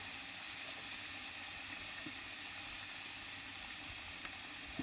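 Spices sizzle steadily in hot oil in a pan with turmeric and coriander powder while liver curry cooks, a constant close frying hiss with no pauses and no talking.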